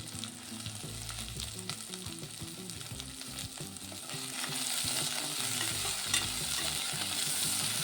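Carrots sizzle and crackle in hot oil in a pan as they are stirred with other vegetables for a vegetable pulao. The frying hiss is steady and close, grows louder midway, and comes with scraping stirs and no talk.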